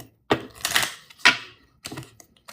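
A deck of cards being shuffled, a few short crisp riffling bursts separated by pauses, close and fairly quiet.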